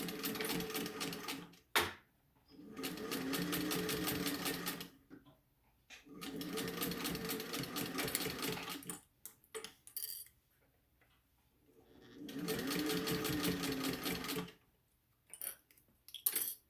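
A sewing machine stitches a fabric face mask with a pocket, running in four steady bursts of rapid needle chatter separated by pauses with small clicks and handling noises, close and alone without talk.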